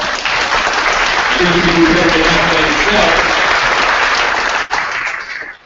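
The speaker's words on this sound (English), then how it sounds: "Please give yourselves a round of applause." Audience at a university talk bursts into sustained applause, loud and dense throughout, with some cheering voices mixed in before it tapers off near the end.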